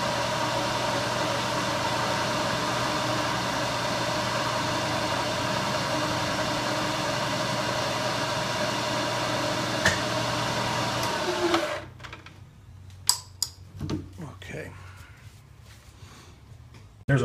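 A milling machine cutting metal with an inch-and-a-quarter end mill, a steady loud hum and whir for about eleven seconds, then it stops abruptly, leaving quiet with a few scattered clicks and knocks.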